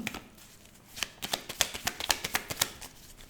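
Lenormand cards riffled and cut by hand, a quick run of crisp papery flicks that speeds into a dense, close, fairly quiet burst of snaps with no talking.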